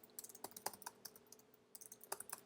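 Quiet, rapid typing on a computer keyboard while writing code, with uneven bursts of light key clicks and a few sharper taps, close and alone with no talk.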